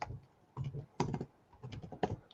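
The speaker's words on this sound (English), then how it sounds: "Let me type it in real quick." Typing on a computer keyboard: short bursts of close, crisp key clicks in several quick clusters, with brief pauses between them.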